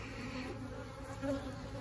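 Honey bees from a hive colony drone in a steady, close buzz that holds level throughout, with one brief louder swell near the end as a bee passes nearer.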